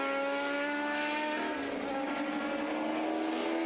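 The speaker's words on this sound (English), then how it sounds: "Here's the T600 Lola" Lola T600 historic race car at Estoril Classics, its engine droning steadily and loud with strong harmonic tones that rise slightly as it runs close by, alone without voices.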